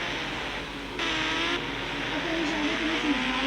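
Motorbike engines in the Indian Bike Driving 3D video game roar steadily and loudly at a race start, the pitch stepping up as a bike accelerates.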